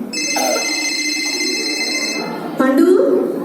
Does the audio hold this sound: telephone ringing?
yes